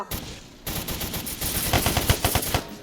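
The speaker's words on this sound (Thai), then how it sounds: "ยิงซอมบี้ดิ" Gunfire from shooting zombies in a Roblox video game: a short burst of shots, then a rapid run of repeated shots in quick succession, loud and close, with no talk.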